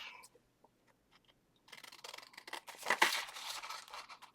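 Scissors snip through junk mail paper up close, a faint tap or two at first, then a dense run of crisp cutting and crinkling that grows louder toward the middle before easing slightly.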